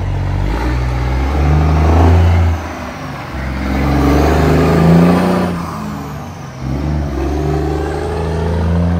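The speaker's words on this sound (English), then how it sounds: "So here's truck 128. He's heading out with a load." A loaded Kenworth truck pulls away, its engine revving loud and close in a deep rumbling drone that rises and falls through gear changes, with a brief dip mid-way and no talking.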